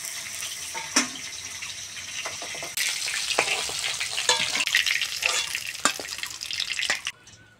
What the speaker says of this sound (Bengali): মাছগুলো ভেজে নিয়েছি, তুলে নেবো তেল থেকে।